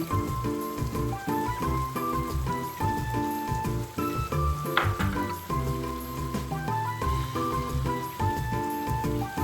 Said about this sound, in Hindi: थोड़ा सा पानी भी ऐड कर दूँ ताकि मसाले जले नहीं।